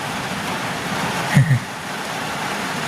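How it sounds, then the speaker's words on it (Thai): Steady rain falling while sitting inside a car, heard as an even, continuous hiss throughout, with one brief low thump midway. "เสียงฝนได้พี่น้องเนาะ"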